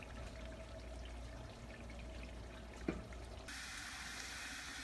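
Melted lard rendered from pig fat poured into a pan that already holds some, a soft steady trickling stream, faint and close, with a brief knock partway through before the flow grows brighter.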